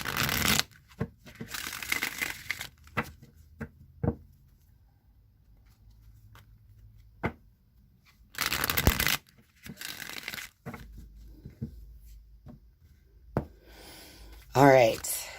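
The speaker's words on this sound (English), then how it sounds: "I'm just going to shuffle the Rider-Waite deck" A Rider-Waite tarot deck is shuffled by hand in several short bursts of riffling and flicking cards. Separate taps and soft handling sounds fall between the bursts, close and intimate, with a voice speaking in places.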